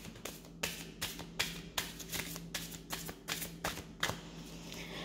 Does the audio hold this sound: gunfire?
no